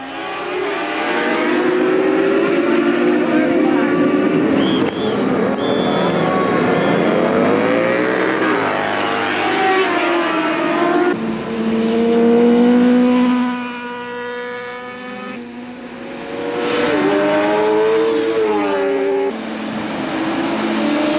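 Race cars at the Nelson Ledges 24-hour race roar through a restart, engines rising and falling as they pass, loud and continuous with no talk over them.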